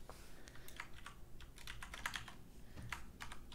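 Rapid keyboard typing on a computer keyboard while editing in Photoshop, a steady run of light clicking keystrokes with short bursts and pauses, close and alone with no voice.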